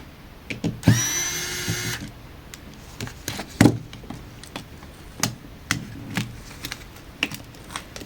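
A power screwdriver whirs for about a second while removing screws from a Xiaomi 13T phone, followed by scattered close clicks and taps of handling small parts.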